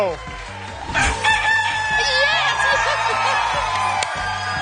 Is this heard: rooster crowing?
yes